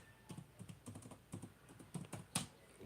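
Fingers tap on a computer keyboard in quick irregular bursts of clicks, close and fairly quiet, with no talking.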